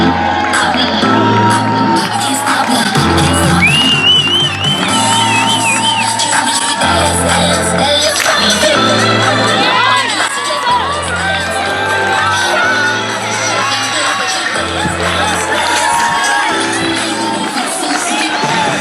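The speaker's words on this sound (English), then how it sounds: "Let's give them a big Santa Clara round of applause." Parade crowd in Santa Clara cheering and clapping, with loud shouts and whoops over amplified music and a broad, continuous roar throughout.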